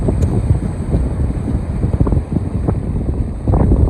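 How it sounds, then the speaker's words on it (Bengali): Heavy rain and strong wind on the Cox's Bazar sea shore, heard as a loud, steady roar of wind buffeting with rushing surf underneath and no speech. "প্রচুর পরিমাণে বৃষ্টি পড়তেছে।"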